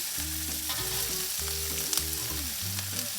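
Red capsicum sizzles in a pan while being stirred, a continuous crackling fry close by, partly under background music.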